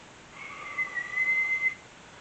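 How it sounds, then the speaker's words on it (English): Person whistling a pucker whistle, a single sustained clear tone held for over a second with slight wavering, close and alone with no talk. "I could whistle the puckered way."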